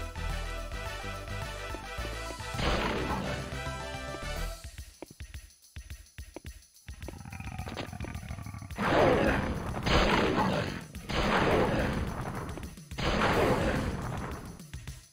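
In Star Wars: Jedi Knight – Mysteries of the Sith, enemy attacks set off loud game explosions, several heavy booming bursts in the back half, following earlier music and sharp clanks.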